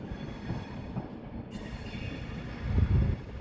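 Train passing through Doncaster station, a steady rumbling roll with rattling wheels and a squealing rise near the end, no voices.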